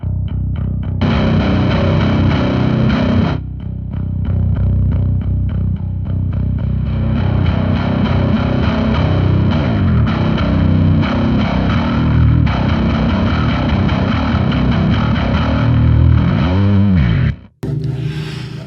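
A bass guitar played through blended clean and distorted signals, loud gritty notes ringing continuously with short pauses, alone without talk, ending abruptly.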